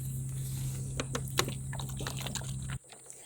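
Liquid PSB fertilizer is poured onto potting medium in a garden, making a steady splashing trickle with small drips that stops abruptly near the end.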